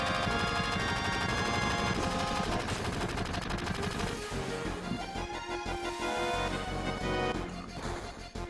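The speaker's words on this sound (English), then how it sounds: "Gunfire?" Rapid bursts of automatic gunfire from the video game Final Fantasy VII, loud and dense, rattling continuously before thinning out near the end without talk.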